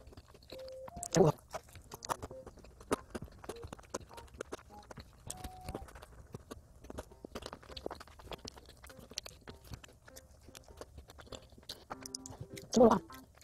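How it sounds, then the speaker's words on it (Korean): Someone chews crunchy peanut cream bread from a Korean bakery, with scattered crisp bites and small crunches in a quiet room, plus two louder bursts near the start and end. "땅콩이 무슨 자리에 있길래 이렇게 바삭하지?"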